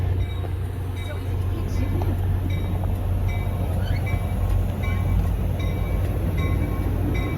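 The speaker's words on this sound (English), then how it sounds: "Here comes the train to Hoboken, which is the last one." A train to Hoboken rumbles steadily with a low mechanical hum and faint squeals, growing slightly louder as it arrives at Port Jervis, New York, alongside background voices.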